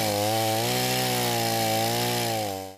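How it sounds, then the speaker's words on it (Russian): A chainsaw cuts tree branches during an outdoor city cleanup, its engine holding a loud, steady buzzing whine close by for nearly three seconds before it abruptly cuts off. "Одни пилят ветки, другие собирают мусор."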